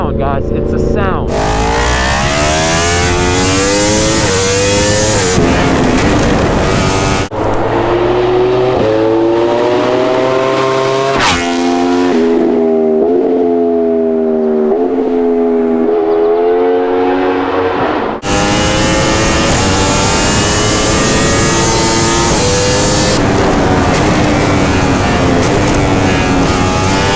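A 2021 Yamaha R1 sport motorcycle's engine screams loudly and continuously, its pitch climbing in repeated rising sweeps between gear changes, with brief drops as it shifts, a close and aggressive roar throughout.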